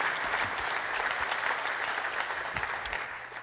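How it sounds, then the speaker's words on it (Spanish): Church congregation applauding, a steady dense wash of clapping hands filling the room, holding loud throughout and easing slightly at the end. "hand of applause to the Lord."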